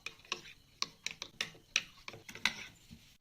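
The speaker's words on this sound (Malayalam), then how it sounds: "നന്നായിട്ട് മിക്സ് ചെയ്ത് കൊടുക്കാം." A MoroLife On&On health drink stirred in a glass, a faint series of sharp, evenly spaced clinks, roughly a dozen, each one ringing briefly.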